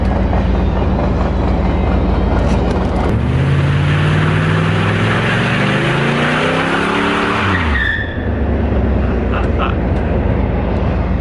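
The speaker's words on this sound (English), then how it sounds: "what better time to see if it'll do a burnout than right now?" A Pontiac F-Body Formula WS6 car doing a burnout, loud steady engine roar that swells into a rising, squealing rev and tire screech for several seconds before dropping back to a rumbling idle, up close.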